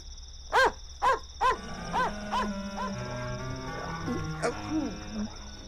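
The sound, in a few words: dog barking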